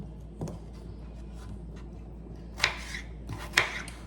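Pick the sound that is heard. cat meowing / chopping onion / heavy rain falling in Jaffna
chopping onion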